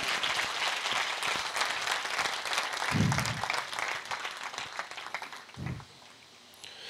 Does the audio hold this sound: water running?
no